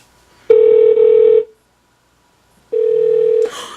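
A Google Home smart speaker places a phone call: two long steady ringback tones separated by a silent gap, loud and close, with a brief burst of noise at the end.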